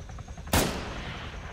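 A single loud gunshot in a video game cracks out close and sharp after a short quiet stretch, then trails off in a long reverberant tail.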